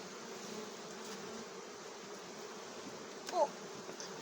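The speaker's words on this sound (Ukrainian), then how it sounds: "бджола є в 145-му корпусі" Honey bees hum at a low level inside a hive during a nest check, a faint, even buzzing drone with one brief louder knock near the end.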